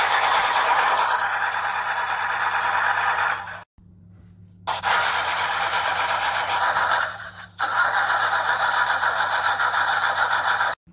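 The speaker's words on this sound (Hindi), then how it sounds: "ये फटीचा ट्रैक्टर कभी स्टार्ट भी होता कि नहीं?" An old, worn-out tractor engine tries to start, a loud harsh cranking rattle that runs for several seconds, cuts out briefly, then resumes in another long grinding burst before stopping.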